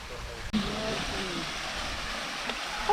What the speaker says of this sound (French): là, c'est une cascade d'eau froide